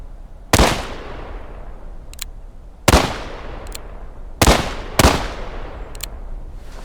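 Four loud musket-style gunshots from the Civil War video game War of Rights, each a sharp crack with a trailing echo, spaced a second or two apart, with faint distant shots between them.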